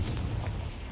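A Confringo fire spell blast in the Hogwarts Legacy video game, a brief muffled boom with a deep rumbling tail that fades within a second.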